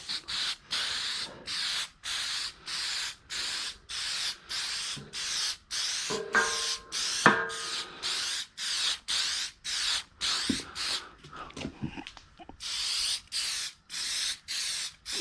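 Repeated short bursts of spray gun fire a coat onto a fiberglass motorcycle fender, each hiss roughly half a second to a second long and separated by brief pauses in a steady rhythm, with a few faint handling clicks midway.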